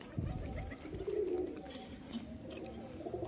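Male racing pigeons up for sale coo softly close by in several low, throaty calls against faint background noise.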